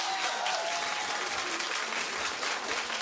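Steady applause from a talk-show studio audience, dense clapping that holds at an even level throughout with no voices standing out.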